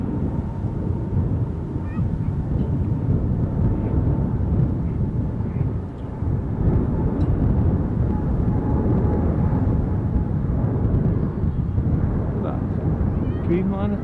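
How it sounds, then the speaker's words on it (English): A Boeing 787 Dreamliner at Amsterdam Schiphol airport gives off a low, continuous jet rumble mixed with wind buffeting, while people chat nearby. "Dreamliner 10."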